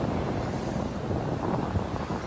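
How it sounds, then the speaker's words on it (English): Steady low rumbling buffeting of wind against a microphone, loud and continuous throughout with no voices. "Oh, it is so windy out here today."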